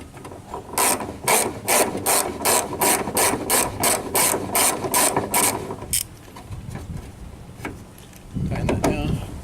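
A hand ratchet tightens bolts on Valkyrie branch guard mounts with a metal spacer, clicking in a steady run of close, sharp pawl bursts for several seconds, then stopping, followed by a few scattered clicks and a low rumble.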